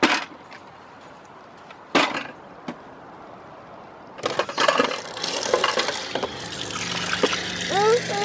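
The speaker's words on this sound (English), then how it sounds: "You come help turn the tap on?" After a few clicks and knocks, tap water starts running and splashing steadily into a sink in a van, with a voice briefly heard near the end.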